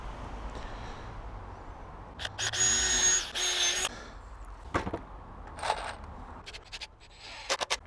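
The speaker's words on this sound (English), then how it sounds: "Square it up at the top, square it up at the end, drill the pilot hole" A power drill bores a pilot hole in a decking board for a DIY raised bed, giving a short, loud whirring burst in the middle, with scattered scrapes and knocks of tools and wood before and after.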